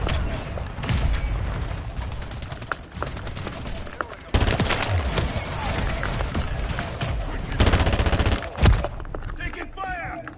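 Dense in-game gunfire from Modern Warfare III, with rapid bursts and heavy volleys in sustained, loud waves, sharp blasts rising near the start and again around the middle and late, while voices call out beneath the shooting.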